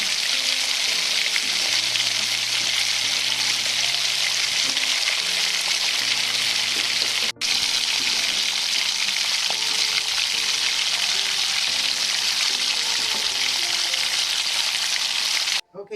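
French fries and tater tots sizzle steadily in hot oil, a loud, continuous crackling hiss with a brief bump partway through and an abrupt stop at the end.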